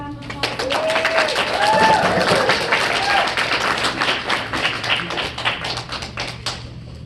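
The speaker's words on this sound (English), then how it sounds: "we give them one more round of applause" An audience at a debate tournament final round breaks into sustained applause, dense clapping rising quickly and then thinning out toward the end.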